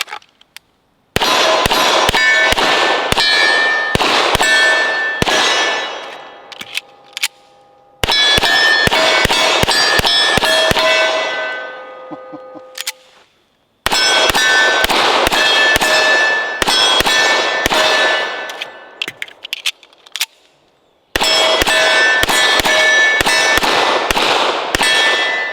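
A Centurion 11 1911 pistol fires four loud rapid strings of shots, each shot ringing off steel targets with a metallic clang. The strings are separated by short pauses, and the rings fade out briefly between them.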